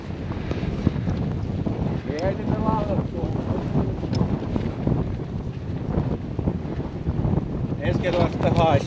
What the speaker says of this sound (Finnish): Oi perhana mikä tuuli.